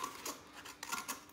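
Scissors snip around a cardboard tube, cutting it into two cylinders for kazoos: a few soft, close scraping cuts in quick succession, alone.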